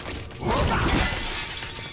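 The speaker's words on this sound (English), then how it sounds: "Break glass!" Glass shatters loudly in the sci-fi horror game The Callisto Protocol, a close crash followed by a sustained spray of breaking shards and debris.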